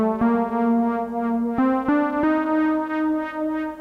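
The 'Born to Lead' lead synth preset in NanoStudio plays a few bright sustained notes with sharp attacks and rich harmonics, loud and clear with no talking.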